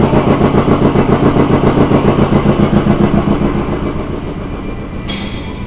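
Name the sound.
air compressor running at an auto hobby shop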